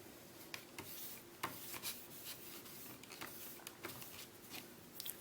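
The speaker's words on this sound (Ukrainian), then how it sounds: "зараз я витру свою палітру" A paint palette being wiped clean with a cloth, a quiet, steady rubbing and rasping with scattered brief scrapes and taps, close up and with no talking.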